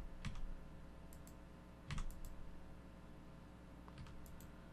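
Computer keyboard arrow keys are pressed in a few sparse, quiet clusters of clicks several seconds apart over faint background hum, with no talking.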